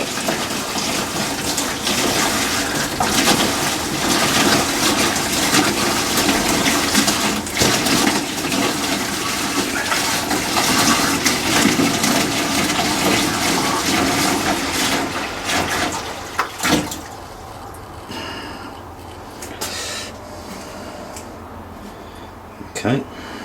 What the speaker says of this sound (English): the next job is to put that 2 gallon, which is 10 litres roughly, into our tank